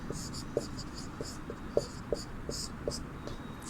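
Chalk writing out a Hindi heading on a classroom board: a run of short, scratchy strokes with a few sharper taps, steady and close, with no talking over it.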